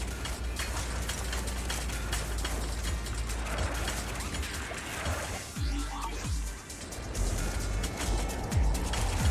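An old working machine in Zenless Zone Zero makes a steady mechanical clatter of ratcheting gears and creaking parts, loud and close, with a short grinding shift partway through and no speech.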